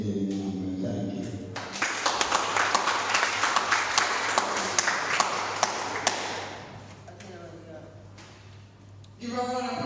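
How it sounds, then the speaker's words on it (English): An audience at a poetry and storytelling event breaks into loud, sustained clapping for several seconds after a poem, fading out, with speech before and after the applause. "Give a round of applause again."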